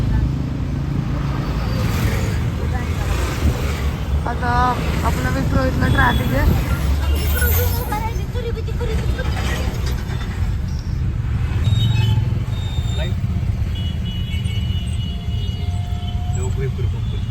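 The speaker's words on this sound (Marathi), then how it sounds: "आता आपलं विप्रो इथलं ट्रॅफिक" Road traffic passes near Wipro as a steady, dense rumble of cars, buses and motorcycles, with engine drone and occasional horn-like tones, under a constant murmur of nearby voices.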